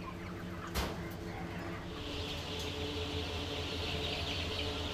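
Chickens in a poultry house with ventilation equipment cluck faintly under a constant low mechanical hum. A single sharp knock lands early, and a hiss of air or spraying water rises in the latter half.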